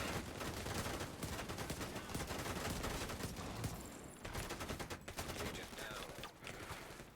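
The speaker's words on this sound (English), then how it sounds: "Oh, that is a lot of concentrated fire on me" Dense, continuous video game gunfire concentrated on the player, rapid overlapping shots forming a steady barrage with little pause, fairly faint overall, with some talking underneath.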